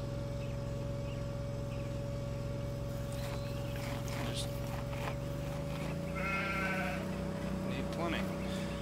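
Sheep bleat in Farming Simulator 2013 amid a flock of 100, faint scattered bleats over a loud constant engine-like drone and game ambience, with some talk mixed in.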